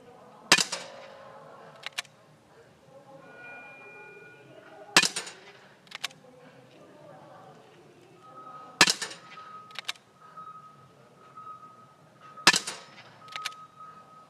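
Rifle shots at a para biathlon shooting range during the women's finals, five sharp cracks spaced a few seconds apart, each followed by a short ringing tail and fainter clicks of the rifle bolt, with a faint commentary voice underneath.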